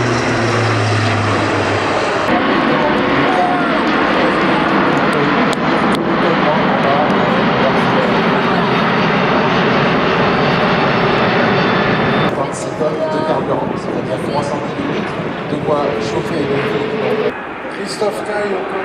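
Military Airbus aircraft at an air show roar loudly in a sustained engine drone during a go-around, with the pitch shifting as power changes, while a commentator talks over it.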